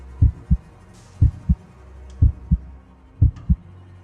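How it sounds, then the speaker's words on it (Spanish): Heartbeat sound effect, a loud, close, deep double thump repeating four times at a steady slow pace over a low hum. "sintiendo el latido en mi pecho."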